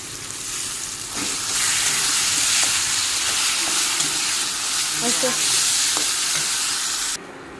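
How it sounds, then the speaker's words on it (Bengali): Turmeric, chilli and cumin powder frying in a pan with raw green banana, stirred so a steady close sizzle runs throughout with scraping and clinking strokes over it; it drops slightly at the end. "হলুদ গুঁড়ো, লঙ্কার গুঁড়ো, জিরে গুঁড়ো দিয়ে নেড়ে নেব"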